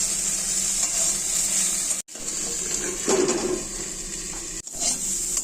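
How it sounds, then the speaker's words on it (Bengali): Drumstick flowers fry in a pan with sprinkled poppy seeds, a steady, moderate sizzle with stirring noise that briefly cuts out twice. "একটু পোস্ত দানা উপর দিয়ে ছড়িয়ে দিয়ে খুব ভালো করে পোস্তটা দিয়ে ভেজে নেব।"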